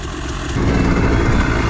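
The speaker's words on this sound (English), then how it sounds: "this thing is actually idling pretty well in the cold" A 1984 Kawasaki KDX 200 dirt bike engine idles in the cold with a steady low chugging rumble, close by, growing slightly louder partway through.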